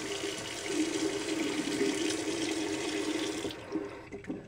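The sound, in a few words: warm water running from a tap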